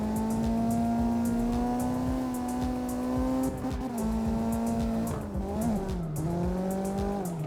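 A race car in a driving game pulls out of a corner, its engine droning loud and steady with a rising then dipping pitch as the tires grip, with faint scrabbling and short tire chirps throughout.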